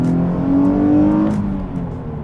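Nissan 370Z engine blipping with automatic rev matching during a downshift, a loud close rev that rises and then falls away, heard alone without talk.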